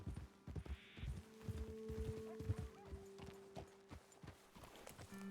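Horse hooves clip-clop in a steady, uneven rhythm in Red Dead Redemption 2 as riders slow and halt, with a brief whinny and a low background hum.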